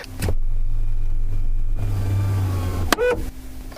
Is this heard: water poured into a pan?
no